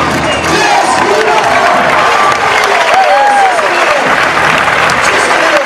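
Spectators clap and cheer loudly at a bull-leaping recortadores contest in a Navarra bullring, continuous dense applause mixed with whoops and shouts from a large crowd, with voices calling out over the din.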